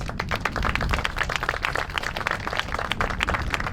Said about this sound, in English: So can we give them another round of applause?